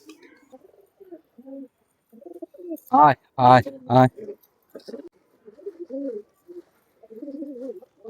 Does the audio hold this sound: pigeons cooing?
yes